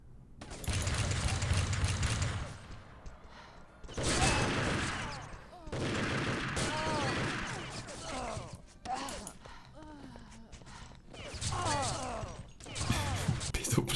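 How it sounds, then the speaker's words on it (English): Bursts of silenced AK fire in a competitive team shooter match, several rapid volleys spread across the stretch, with commentators talking over them. "People playing with a freaking silenced AK."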